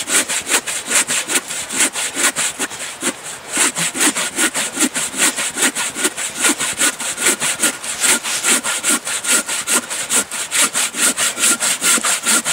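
Hand saw cutting through hard wood, not soft pine, in a steady rapid back-and-forth rhythm of rasping strokes, close and loud with no talking.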